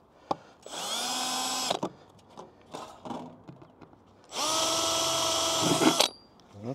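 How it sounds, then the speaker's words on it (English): Two long bursts of a power drill whining steadily at high speed as it drills through a refrigerated trailer's roof, separated by scattered knocks and clatter; close and loud. "we're gonna drill a couple of holes"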